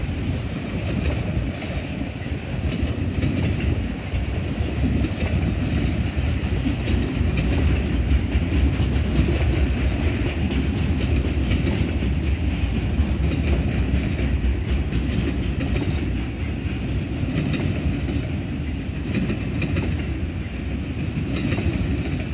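A loaded CSX auto rack freight train, likely from a Honda plant in central Ohio, rolls past at Greenwich with a loud, sustained rumble and rail clatter, wind buffeting the microphone.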